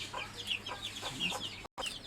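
Broiler chickens on a poultry farm cluck steadily in a close, busy chorus of short overlapping calls, with a brief cut near the end.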